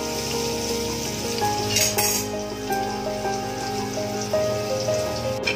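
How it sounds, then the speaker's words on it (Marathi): Garlic, coriander and amoshi sautéing in a pan for a fish curry give a steady, crackling sizzle that runs throughout, beneath background music, with no speech. "मग लसूण, कोथिंबीर, आमोशी आणि मग त्याला व्यवस्थित परतून घेऊया."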